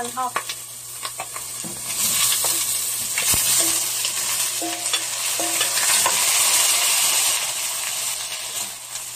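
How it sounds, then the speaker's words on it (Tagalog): Shrimp and tomatoes sizzling loudly in a pan for shrimp sinigang, with repeated scraping and stirring over a steady frying hiss. "Browning ko lang siya."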